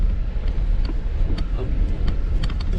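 A Kia Carens rolls over a rough unpaved path with no road at all, giving a steady low rumble of tyres and suspension with scattered knocks and rattles and some wind buffeting.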